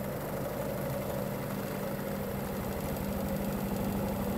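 An electric motor drives a board in a mechanical resonance physics demonstration, giving a steady, close, continuous vibrating hum with a low rhythmic throb and no talk over it.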